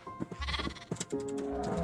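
Minecraft sheep bleat two or three times in quick succession, loud and close, the last bleat drawn out, with no talk.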